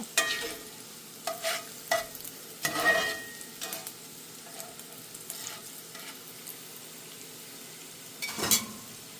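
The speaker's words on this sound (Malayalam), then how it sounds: "നമ്മുടെ ഉള്ളിയും ഉലുവായും പച്ചമുളകും നല്ലതുപോലെ തന്നെ മൂപ്പിച്ചെടുത്തിട്ടുണ്ട്" Onions, green chillies and fenugreek crackle and sizzle in hot oil for a salmon fish pickle, with several scraping stirs of a spoon against the pan; no talking.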